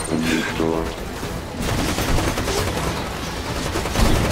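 Rapid automatic gunfire in PlanetSide 2, dense and continuous bursts filling the whole stretch, loud and close, with voices mixed in.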